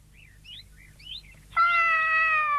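A cat gives several short, faint mews, then one long, loud, sustained meow close by, with no talking.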